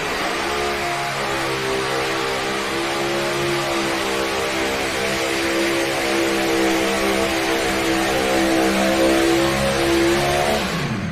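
The Corporal Punishment tractor-pulling machine makes a full run at a county fair pull, its engine roaring loudly under load in one sustained pass, with the pitch building steadily and a slight rise near the end.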